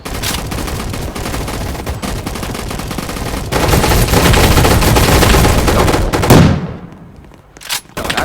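Turret gunfire roars in the gun fight arena video game, a loud sustained automatic stream that swells midway, cuts off abruptly, then resumes briefly after a short lull.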